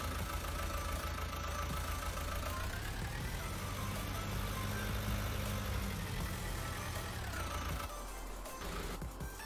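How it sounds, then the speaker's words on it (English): A vehicle engine in Farming Simulator 19 turns over and settles into a steady mid-pitched idle, loud and close throughout, dropping away near the end. "Start the engine and away we go."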